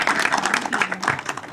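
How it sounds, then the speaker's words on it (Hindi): Applause from an audience at a school or college event, a burst of many hands clapping together, dense and lively throughout. "एक बार जोरदार तालियां केवल इसी बात के लिए।"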